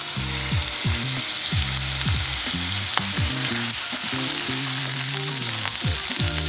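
Carrots sautéing in sesame oil, a steady close sizzle and frying hiss running throughout with periodic stirring scrapes, loud and continuous with no talk.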